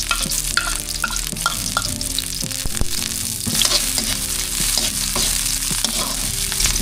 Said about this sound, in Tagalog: Ngayon po ay umpisa na natin magluto. Mag-gisa na po tayo.